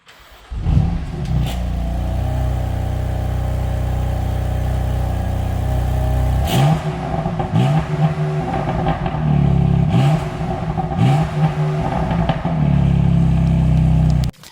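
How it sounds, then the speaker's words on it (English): A BMW M4 sports car engine idles with a deep rumble, then revs sharply several times in quick blips, the exhaust growling and dropping back between pulls. "now we're going to test the exhaust notes"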